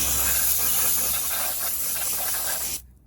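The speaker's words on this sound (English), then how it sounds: "Regular hose, man, look at that." A regular garden hose spraying water onto lawn equipment, a loud, steady broadband hiss held close for nearly three seconds before it cuts off abruptly.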